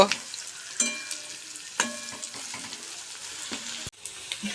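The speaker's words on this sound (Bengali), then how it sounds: "হালকা করে পেঁয়াজটাকে একটু লাল করে নেব।" Onions frying in a pan for Bengali chicken kosha, a steady close sizzle broken by several sharp scraping stirs and clatters of a utensil, with no talk.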